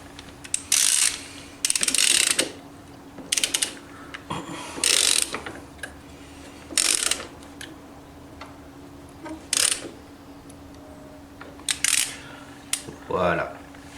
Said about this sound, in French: Bien entendu, nous allons serrer cet écrou.